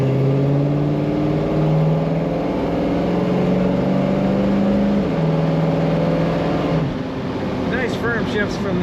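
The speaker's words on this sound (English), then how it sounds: "I don't know if you can hear that idle, but it sounds good." 1970 Ford Mustang Mach 1 fastback with an automatic transmission, its engine droning loudly and steadily as it pulls through gear changes, pitch rising and dropping under a constant roar while driving down the road.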